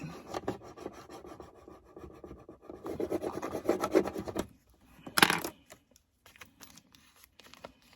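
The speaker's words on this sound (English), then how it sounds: "Take the name, lift it onto the transfer sheet by rubbing it." Dry-transfer lettering being rubbed onto a transfer sheet for customizing a cigar ashtray gives a close, scratchy rasping that runs steadily, then breaks into short, sparse scrapes with quiet gaps.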